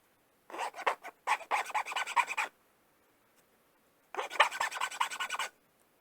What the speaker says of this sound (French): Ah, ça se lime moins bien.